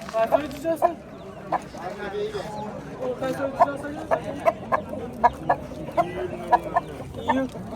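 Rooster clucks and short crowing calls repeat at close range over a busy market with people talking throughout, where a young rooster hatched in July is offered for 600,000.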